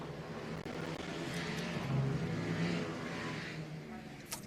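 Supermoto motorcycles pulling away at the start of a race at Rowrah, a blended roar of engines rising and holding, heard from a distance as a broad continuous drone.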